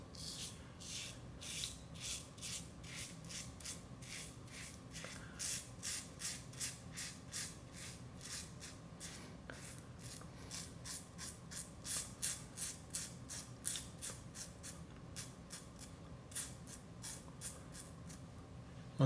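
A Parker 111B safety razor cutting stubble on a sideburn and cheek, a series of short, crisp rasping scrapes in a steady rhythm of roughly two per second, close and quiet, with no speech.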